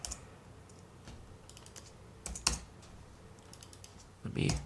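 Typing on a computer keyboard in a quiet room, with sparse individual key clicks followed by short, denser bursts of rapid keystrokes.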